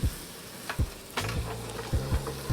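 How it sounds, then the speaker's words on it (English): Peppers and onions sauté in butter in a pan, a soft steady sizzle broken by several low thumps and scrapes of stirring, close-up and without talk. "in goes the peppers and onions. We're gonna saute them until they start to get nice and tender"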